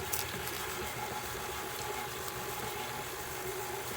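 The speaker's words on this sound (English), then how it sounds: "just keep your mixer on low" An electric mixer runs on low speed, mixing sugar cookie dough, with a faint, steady whirring hum that continues unchanged throughout.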